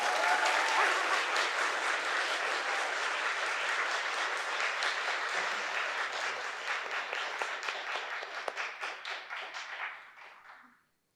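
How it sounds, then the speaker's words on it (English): An audience at a Justice Thurgood Marshall celebration applauds after a spoken poem. The dense, steady clapping of many hands holds for roughly ten seconds, then thins and fades out. "One more round of applause, please, for Mr. Settle."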